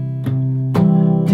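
An acoustic guitar strums chords while the low bass strings are palm-muted. Three picked strokes fall about half a second apart, each giving a short bright attack over a dampened, close-miked low ring, with no voices.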